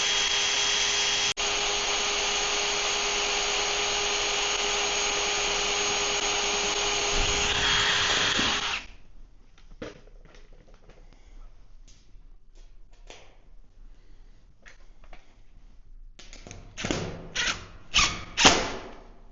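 A power driver runs a screw into a powder coating oven panel, a loud steady whine for several seconds that then stops, followed by scattered clicks, knocks and handling thumps.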